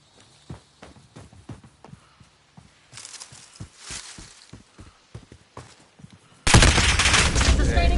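Gunfire in a military video game rings out as a string of sharp single shots at irregular intervals, then erupts into a loud sustained burst at the end, with radio-style voices speaking between shots.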